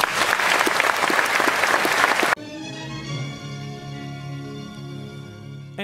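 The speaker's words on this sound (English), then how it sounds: "please give a nice round of applause to Disney legend and EPCOT pioneer" A live podcast audience claps loudly for a couple of seconds, then the applause cuts off abruptly and gives way to sustained tonal music.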